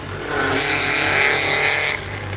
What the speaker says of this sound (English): Oh, that's a loud motorcycle.